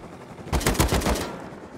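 A quick burst of about five rapid gunshots in the survival game Rust, close and sharp, standing out briefly above a quiet background.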